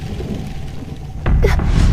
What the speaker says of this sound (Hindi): तूफान में कुछ भी नहीं दिख पा रहा है